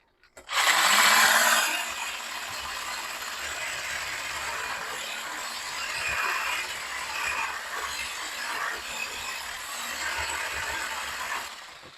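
Eggs for an omelet being whisked briskly in a bowl beside a heating cast iron skillet, a steady, fairly loud rapid scraping and clicking that runs almost continuously for about ten seconds, with no talking.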